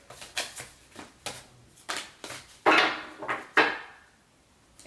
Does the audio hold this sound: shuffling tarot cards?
yes